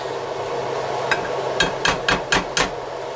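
A potato masher pounds cooked potatoes for garlic mashed potatoes in a kitchen, making a series of about six dull thumps that speed up toward the end, close and fairly loud with no talk.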